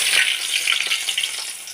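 Chopped onions hit a spoonful of hot oil in a bowl, giving a brief, close, steady sizzle with no voices.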